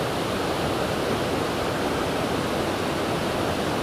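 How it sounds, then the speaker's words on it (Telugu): A waterfall spills down a forested hillside near a temple, producing a dense, unbroken roar of falling water that stays steady and loud from start to finish with no other sounds. "వాటర్ ఫాల్ మాదిరిగా పైనుంచి పడుతుంటాయి నీళ్ళు"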